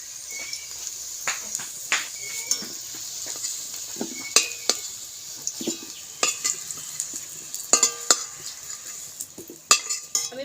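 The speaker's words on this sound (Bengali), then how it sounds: "এই যে আলুগুলোকে এখন আমি 5 মিনিটের মতো আবার ভালো করে ভেজে নেব নেড়ে ছেড়ে" Potatoes frying in a pan and being stirred, with a steady sizzle under repeated scrapes and clinks of a utensil against the pan, close and moderately loud.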